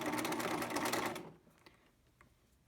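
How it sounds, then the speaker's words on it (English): A sewing machine runs a straight stitch on fabric being altered, a steady fast whirring buzz for over a second that then stops, leaving only faint light clicks. "So I'm on a straight stitch. The machine just knows to do this."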